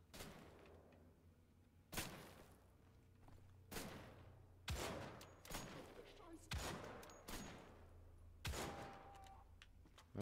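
Sharp gunshots from Wolfenstein: The Old Blood ring out about eight times at irregular intervals, each a loud crack with a short decaying tail over a low ambient hum.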